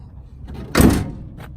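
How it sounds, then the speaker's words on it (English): A single solid thunk from the hood of a 1961 Cadillac Series 62 convertible, closing firmly at close range, with a short resonant tail and quiet background before and after. "Hood closes nicely."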